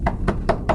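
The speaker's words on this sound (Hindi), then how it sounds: "फिर दोबारा नॉक हुआ धीरे से" Four soft, evenly spaced knocks on a door in the middle of the night, quiet and muffled with no voices.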